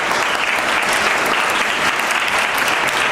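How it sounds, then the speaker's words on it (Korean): Audience applause fills a school admissions presentation hall, a steady, dense clapping that stays loud and even from start to finish with no voices over it. "다시 한번 큰 박수 부탁드립니다."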